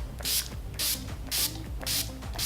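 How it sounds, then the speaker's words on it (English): Makeup setting spray, a bridal formula, is pumped in several short bursts, four or five crisp airy hisses spaced roughly half a second apart, close and fairly clear with no talking. "I sprayed like all of that into this"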